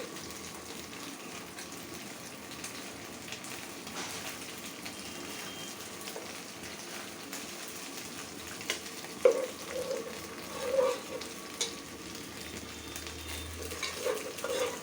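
Spices frying and being stirred in a pan for a rui fish korma made with coconut milk, a soft steady sizzle with occasional scraping stirs, fairly quiet and alone.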